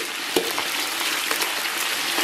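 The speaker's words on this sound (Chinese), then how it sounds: "油温四五成热啊，咱们把葱姜蒜给它下里边。" Scallion, ginger and garlic hitting moderately hot oil in a big pot, a dense continuous sizzle and crackle with a few sharper pops, close and steady.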